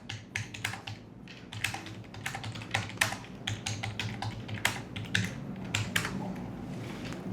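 Rapid, uneven typing on a computer keyboard while setting up a sales agent, with dense clusters of close key clicks and occasional louder taps running continuously over a low background hum, no talk.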